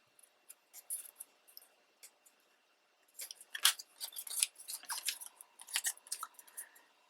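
Scissors make a series of small, crisp snips while trimming a junk journal masterboard page tab; the cuts are sparse at first, then come in a quicker, busier cluster, close up and quiet, with no talking.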